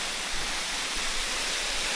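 Steady rushing roar of a waterfall in a cove where a boat lies at anchor, broad and continuous, close and unbroken, with no voices over it.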